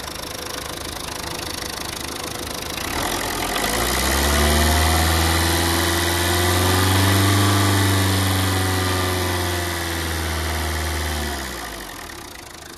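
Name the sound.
Tata Vista TDI diesel engine idling, overheating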